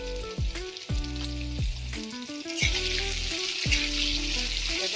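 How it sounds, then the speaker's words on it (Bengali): Potato pieces frying in hot oil with a steady, soft hiss, heard under louder tonal music that runs throughout the stretch; no talking. "আমি আলুটা ভাজার মধ্যে দিয়ে দেবো একটু"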